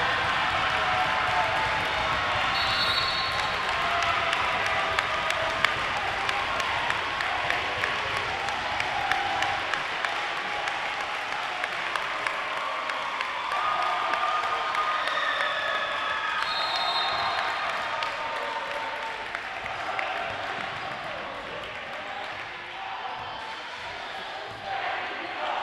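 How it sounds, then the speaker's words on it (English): Spectators roar and applaud at a high school basketball game between Gill St. Bernard's and Rutgers Prep, a dense, sustained crowd swell with a commentator's voice talking over it. "And the crowd goes wild."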